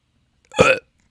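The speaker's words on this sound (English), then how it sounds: "I have to burp." A single short, loud burp from a man, one abrupt voiced gulp lasting under half a second, close and isolated in silence.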